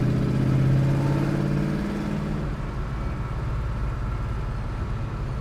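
A 1967 Chevrolet Chevelle SS accelerates, its engine roaring loud and close with a rising drone that settles into a steady, rumbling pull. No one speaks.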